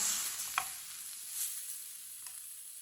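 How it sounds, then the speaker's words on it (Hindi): Semolina roasting in a pan for carrot halwa produces a soft, steady sizzle with a few light stirring scrapes, quiet and close with no voices. "इसे भी 3-4 मिनट के लिए भून लेंगे सूजी डाल के, ताकि सूजी का भी कच्चापन खत्म हो जाए।"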